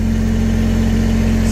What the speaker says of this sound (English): Kubota BX23s tractor.